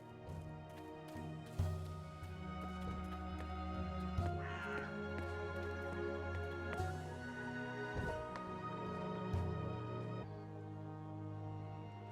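Crow cawing in the fantasy video game Dreamfall Chapters, repeated harsh caws standing out over a steady layered game soundscape with musical tones, no talk.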